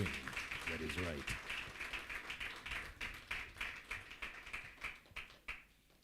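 Hand clapping from an audience at a launch event, a steady run of sharp claps over several seconds that fades toward the end, with a voice talking over it at the start.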